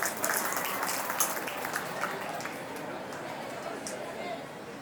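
A crowd applauds for donors at a community gathering with a speech, a dense, steady wash of clapping that holds for about five seconds, with some murmuring voices mixed in.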